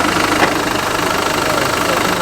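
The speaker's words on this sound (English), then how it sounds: "It was a Defender 90 300 TDI, but it sounded completely different." A Land Rover Defender 90 300 TDI diesel engine, rebuilt by Turner Engineering, runs at a steady idle with a smooth, even rumble and a faint knocking pulse, loud and close with no talking.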